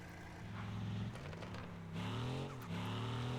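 A BMW X7 driving off and accelerating, its engine note climbing in pitch through gear changes, close and steady with no talking.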